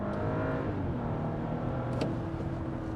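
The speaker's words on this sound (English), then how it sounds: "With Quattro all-wheel drive, it just takes off, even though the roads are wet." A 2024 Audi Q7 55 TFSI with Quattro all-wheel drive launches hard from a stop on wet roads in Sport Plus mode, giving a continuous dense engine roar and road rumble heard from inside the cabin.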